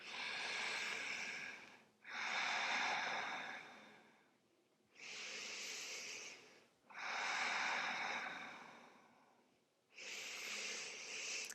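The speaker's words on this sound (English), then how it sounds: "Breathing as much as we can and expanding into the chest." Deep, slow breaths during a wind-down yoga stretch, four long whooshing inhales and exhales alternating evenly, close and fairly loud, with no talking.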